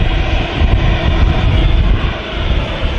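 Ryanair jet airliner taking off down a long runway at Manchester Airport, a loud, steady engine roar with a deep rumbling low end that holds strong throughout.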